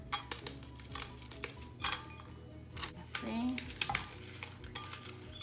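Crisp snapping and crunching of cinnamon cookies breaking into a glass blender jar, with clinks against the jar. A voice briefly speaks underneath.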